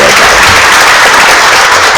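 An audience breaks into loud, dense applause at a public talk, many hands clapping together in a sustained close burst.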